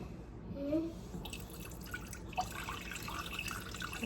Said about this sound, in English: Are you gonna pour the water into the pan?